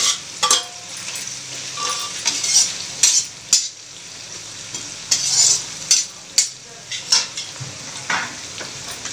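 Bitter gourd and finely chopped raw mango frying in a pan on low heat, with a constant sizzle broken by frequent sharp scrapes and clinks of a spoon against the pan, close and fairly loud, no talk.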